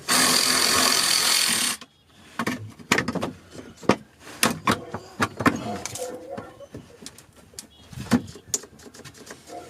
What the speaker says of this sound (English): Yeah, the cordless ratchet died.